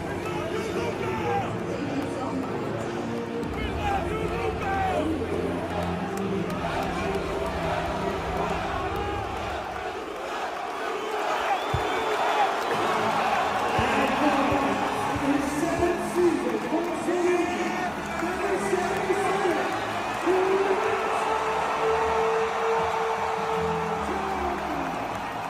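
Basketball arena crowd at a Dallas Mavericks game, a steady roar of chatter and cheering that swells and stays loud throughout, with occasional whoops rising from the mass of voices.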